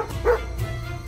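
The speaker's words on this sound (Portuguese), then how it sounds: "Ah, não! Eles têm um cão de guarda!" A guard dog gives a single short bark-like yip at close range, brief and alone against a low background hum.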